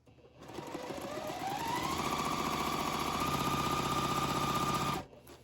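A sewing machine stitches long quilt pieces together in one continuous run of rapid needle chatter, rising in speed and then stopping abruptly, close and alone.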